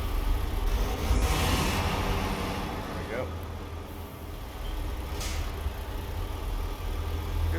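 A truck engine in the video game American Truck Simulator cranks over and settles into a steady low idle rumble with a brief hiss, while someone talks over it.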